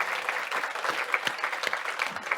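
An audience at a culture conference applauds a speaker after her presentation, a dense, steady wash of clapping from many hands, moderately loud and continuous throughout.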